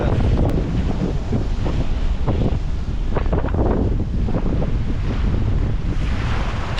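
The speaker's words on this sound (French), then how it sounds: "Si on m'avait dit qu'un jour je serais au milieu de l'Atlantique à faire le malin dehors au milieu d'une tempête" Out in mid-Atlantic during a storm, strong wind buffets a sailboat while waves crash and surge around it, a continuous loud roar with gusts and splashes rising and falling.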